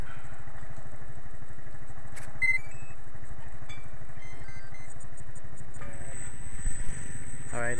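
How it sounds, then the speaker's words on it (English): An RC aircraft's electric motor spins an 8x6 two-blade propeller, making a steady, fast-pulsing buzz with a brief rise near the end and some voices in the background. "I have changed the propeller from the 3-blade to a 2-blade."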